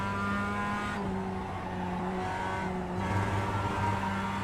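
A Mazda MX-5 race car in the iRacing sim racing game at Okayama International Circuit holds a steady engine drone with shifting pitch, tires faintly squealing, continuous and close throughout.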